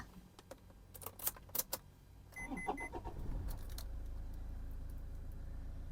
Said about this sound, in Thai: เดี๋ยวเออลองสตาร์ทรถให้ดู คันนี้นะคะควบคุมการใช้งานเป็นกุญแจแบบนี้เลยนะคะ